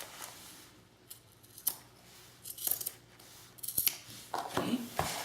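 Scissors snip paper pieces for a Prima lavender scrapbook album page, several separate close, crisp cuts at irregular intervals, with no talking.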